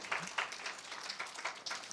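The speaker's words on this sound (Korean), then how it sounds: "박수 한번 주세요." Light applause from a camp concert audience after a correct answer, a soft, scattered patter of hands rising and falling in small bursts, faint and somewhat distant.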